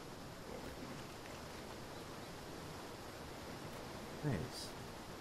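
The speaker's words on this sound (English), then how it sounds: "Oh, got a waterfall." A waterfall in the survival video game Atlas gives off a soft, continuous broadband rush at low level, with a brief faint burst of another sound near the end.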